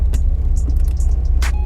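Acura RSX with a fuel-leak and fuel-pump problem, driving on a test drive: a steady low engine and road hum runs throughout, close and continuous, with a few faint rattles and a brief brighter hiss near the end.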